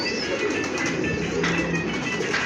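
Pigeons from a prized breeding pair at a loft make soft, steady cooing and faint rustling, with a continuous bird murmur at moderate level and no talk.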